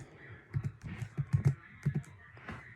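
Keys tapped on a Surface tablet's detachable keyboard, an irregular run of soft, close clicks and thumps in small bursts, with no talking.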